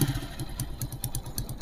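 A motorcycle engine runs steadily at idle during a repair check of its AC pump, with a rhythmic low thumping pulse and some mechanical clatter, close and moderately loud.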